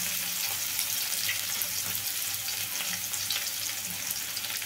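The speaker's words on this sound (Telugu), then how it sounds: "వీటిలన్నిటిలో లైట్ కలర్ వచ్చేటట్టుగా వేయించుకోవాలండి" Mustard seeds, cumin, a dried chili and chopped onion fry in hot oil, giving a steady, close sizzle with a continuous hissing crackle and no talk.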